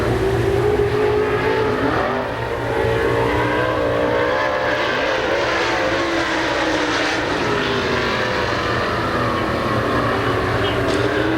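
Dirt-track race car engines roar through a qualifying lap at Pennsylvania Motor Speedway near Pittsburgh, one loud, sustained drone with the pitch rising and falling as the car comes around, filling the whole stretch.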